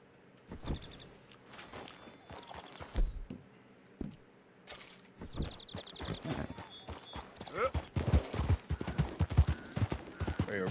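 Horse hooves clip-clop steadily in a western-style video game, a near, rhythmic patter of a horse on the move with occasional whinnies, mixed with game effects and someone talking over it.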